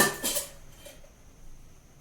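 A metal kadai is set down and handled on a gas stove with a spoon clinking against it, a few bright metallic knocks early on, then quiet.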